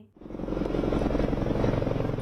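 A helicopter landing in farm fields close by, its rotor thudding in a rapid rhythmic chop over a loud engine drone that swells in quickly and stays steady.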